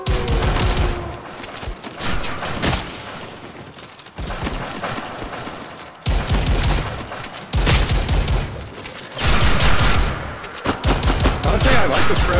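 Repeated shotgun and gun blasts at zombies in a co-op VR zombie shooter on a museum map, loud dense bursts in several waves separated by brief pauses, with no speech.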